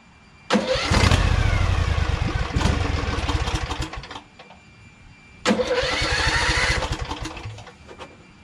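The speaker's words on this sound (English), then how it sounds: "you gotta choke it every time you wanna start it" A Briggs & Stratton Vanguard 23 HP V-twin vertical-shaft tractor engine cranks and fires twice, each start roaring up loudly for a few seconds before cutting off, close by with no talk.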